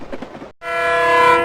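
A speeding train roars past close by, a loud sustained rumble with a steady horn-like tone swelling after a brief pause that follows a short stretch of rattling clatter.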